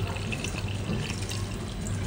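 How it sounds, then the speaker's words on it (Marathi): Water pours into a pan of pomfret fish curry, a continuous close gurgling splash over a couple of seconds with no talk. "तर आता मी याच्यामध्ये पाणी घालते।"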